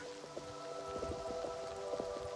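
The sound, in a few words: rain and wind in the video game Oblivion Remastered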